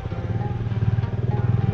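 A Bajaj Dominar 400 motorcycle rides through city traffic in Iztapalapa, its engine making a steady, close, pulsing rumble that swells slightly toward the end, with no talk over it.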